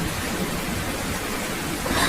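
Heavy rain pours down in a dense, steady wash of hiss, loud and enveloping, with a slight surge near the end and no voices.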